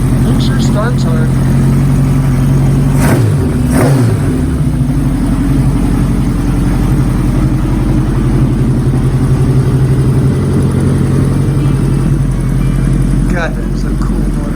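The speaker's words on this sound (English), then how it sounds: "that is a cool motorcycle" A Honda CB1100F motorcycle engine runs loud and steady on a dyno, a constant low mechanical drone throughout with a couple of brief sharp bursts early on, while people talk over it.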